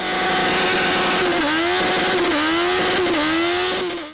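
A Suzuki Hayabusa motorcycle doing a burnout on a mini track: a loud, close engine revs in repeated rising and dipping surges, a high-pitched continuous roar that cuts off at the end.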